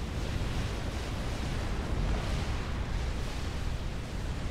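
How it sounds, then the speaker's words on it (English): A nuclear explosion in the real-time strategy game Supreme Commander, a continuous roaring, rumbling blast with heavy low-end noise that stays loud and steady throughout. "That is a nuclear explosion."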